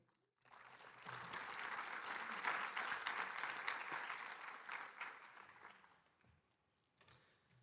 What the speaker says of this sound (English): Please join me in a round of applause for Ewan Reid.